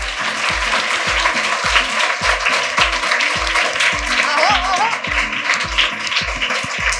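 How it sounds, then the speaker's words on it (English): An audience claps at a felicitation ceremony in a steady, dense patter of applause that runs throughout, with a rhythmic low thumping beneath it and faint music or voices in the background. "Clap for everyone"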